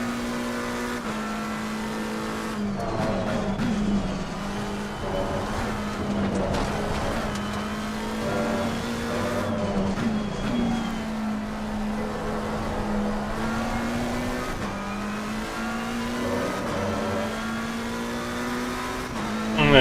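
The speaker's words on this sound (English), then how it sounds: "Car after car." Race cars in a sim racing game on the Nurburgring or Kyalami circuit, a steady engine drone with rising and falling revs as car after car passes, continuous and fairly loud, with no talking.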